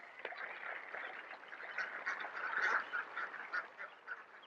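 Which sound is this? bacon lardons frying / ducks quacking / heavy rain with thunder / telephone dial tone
ducks quacking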